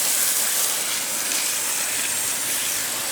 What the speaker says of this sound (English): let's go ahead and turn the hose on